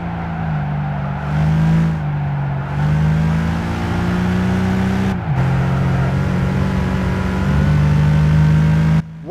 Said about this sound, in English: great audio for the Nissan 370Z, sounding like the actual motor inside the car